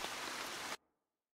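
Steady hiss of rain in the video game Hatch, a dense even wash that cuts off abruptly after under a second, leaving near silence.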